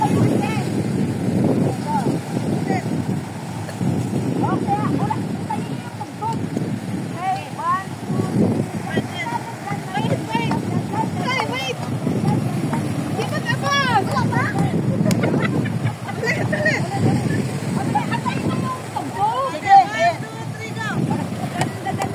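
Sea waves wash steadily against a rocky shore at Cape D'Aguilar, a constant low rushing surge with wind buffeting the microphone and voices faintly in the background.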